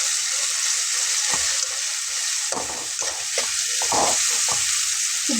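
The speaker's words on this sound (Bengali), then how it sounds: "হলুদটা দিয়ে আমি একবারে নেড়ে দেবো সুন্দর করে।" Spices with turmeric frying in hot oil for dal tadka, a constant hiss and sizzle broken by several scraping spoon strokes, close and clear, no talking.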